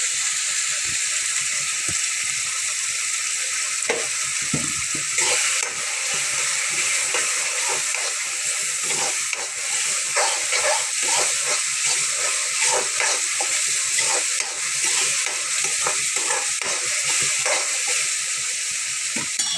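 Onions frying with turmeric in a pan, a dense continuous sizzle with frequent crackles and occasional scraping stirs, close and loud throughout, no talking.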